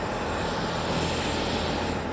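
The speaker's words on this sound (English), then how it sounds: "a helicopter lifts a wounded person from the scene" A helicopter flies over a scene where a wounded person is lifted out, its engine a steady, loud, droning roar with no talk.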